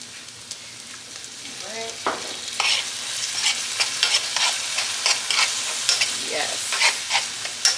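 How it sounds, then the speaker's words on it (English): Garlic paste and minced garlic sizzling in a pot while being stirred for a one-pot chicken and rice dish, with close scraping stirs and steady frying crackle, and a few brief spoken words. "We're going to mix that well. Get everything mixed in."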